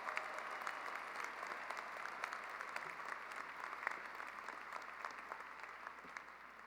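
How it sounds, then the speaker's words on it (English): Faint, steady applause from a large commencement audience for the graduating class of 2022, a continuous wash of clapping heard from a distance with no break. "Let's give the class of 2022 a well-deserved round of applause."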